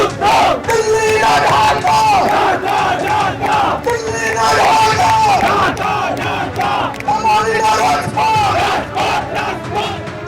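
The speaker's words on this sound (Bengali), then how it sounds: "স্লোগান উঠল।" A large crowd of students at a rally in Bangladesh loudly chants slogans in a steady, rhythmic call-and-response, with dense massed voices throughout.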